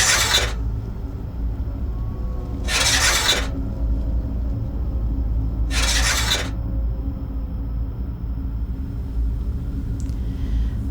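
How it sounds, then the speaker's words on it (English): Three slow, harsh metallic scrapes of a hook drag across a surface, each lasting about a second and evenly spaced over a low, steady background rumble. "someone swears they hear the sound of the metal scraping through the darkness"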